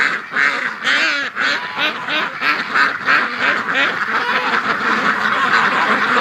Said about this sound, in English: Come on, ducks, into the pen.